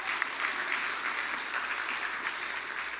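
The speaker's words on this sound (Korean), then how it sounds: "격려 박수 한번 부탁드립니다." A church congregation claps in encouragement during a Sunday morning service, a steady unbroken wash of many hands close by, with no voices over it.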